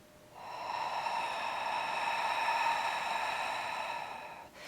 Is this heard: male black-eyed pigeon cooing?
no